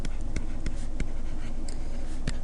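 Pen or marker writing out a math rule by hand, a steady scratchy drawing sound with quick sharp ticks as strokes start and end, close and fairly quiet, alone without talk.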